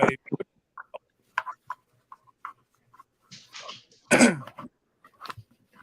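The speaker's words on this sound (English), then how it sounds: "I got in the middle of a coughing fit" A few scattered coughs and throat clearing, close and sharp, separated by quiet gaps, with one harsher burst near the end.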